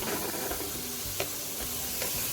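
Fried okra and green chillies stirred in a hot pan, with a steady sizzle under soft scraping of the spoon and a couple of brief clinks, no voices.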